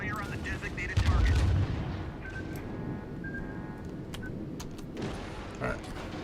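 Naval artillery fire in the video game World of Warships, with heavy booming gun blasts and rumbling explosions from a cruiser battle, loudest early on and then fading into low rumble and battle noise.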